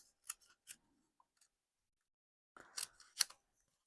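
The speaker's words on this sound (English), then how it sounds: "The piece that I've used to cut out my shapes, I'm going to cut it in half." Paper cardstock is cut in half with scissors in a quiet room, giving a few soft snips, a pause, then a short cluster of sharper crisp cuts.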